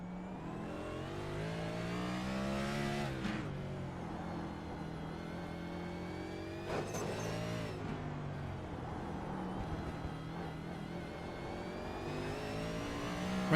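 Onboard IndyCar race car on the street circuit at the Long Beach Grand Prix, its engine droning loud and steady throughout, with pitch rising and falling through shifts and a couple of sharp surges as it accelerates.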